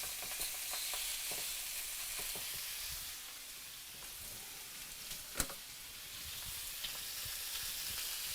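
Swordfish steaks searing in a hot pan, a steady crackling sizzle with small pops and one sharper snap, close and moderately loud, with no talking.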